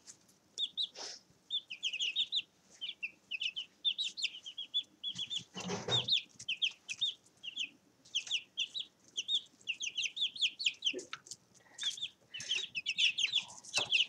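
Chicks cheep in rapid high bursts, repeated chirps and soft clucks forming a busy, close chorus, with one brief bump of handling noise partway through and no voices.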